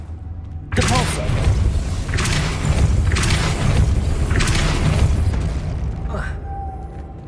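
A Depulso spell in Hogwarts Legacy lands as a heavy booming thud, followed by a series of regularly spaced forceful whooshing bursts over sustained low rumble, with a faint tonal chime at the end.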